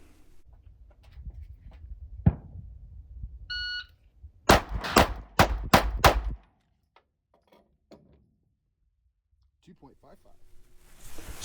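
A Glock 45 handgun fires a rapid string of about five loud, sharp shots on a timed run, close by, with talk before and a quieter stretch after.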